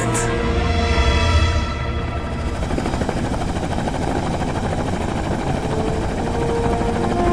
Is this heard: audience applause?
no